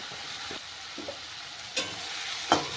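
Raw tomato and small mourala fish frying with turmeric in a pan, quiet steady sizzle with a few sharp stirring scrapes and clinks near the end, no talking.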